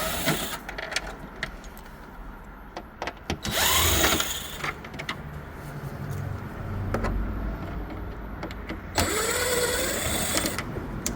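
A power tool backs Torx 15 screws out of the trunk liner of a 2005 Mercedes-Benz S430, with two short high-pitched drill whirs amid clicks, rattles and handling noise close by.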